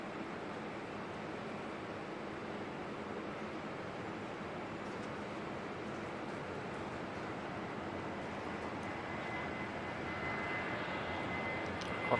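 A Qantas jet departs Auckland Airport for Sydney in foggy conditions, a steady, broad engine roar holding level for the whole stretch and swelling slightly near the end, with no voices.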